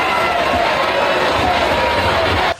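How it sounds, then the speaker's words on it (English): A loud protest crowd in Paris roars continuously, a dense wash of shouting and noise filling the air without a break until it cuts off. "the crowd is starting to get rowdier and louder, as you can see here in this clip"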